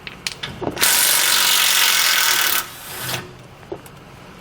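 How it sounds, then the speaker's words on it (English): A power tool whirs loudly for about two seconds while removing bolts from the front anti-sway bar of a 2019 Chevrolet Express van, with short metallic clicks and clanks before and after. "And take out the bolts on the other side as well."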